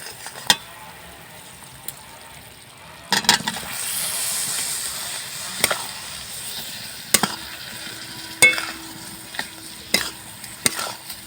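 Raw papaya pieces are stirred in thick sugar syrup in a pan, with a soft bubbling simmer beneath scattered sharp clinks and scrapes of a spoon against the vessel.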